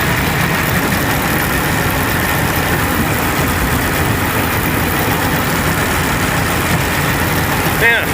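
An engine runs steadily, driving a gearbox, with a loud, continuous low rumble and mechanical whine that holds throughout, close to the listener, with a brief knock near the end.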